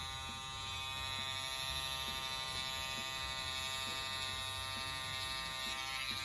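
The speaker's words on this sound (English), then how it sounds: "You can just take this trimmer and trim even inside of their ears." An electric hair trimmer hums steadily with a thin, high-pitched buzz as it cuts hair, held close and running without pause at a low, even level.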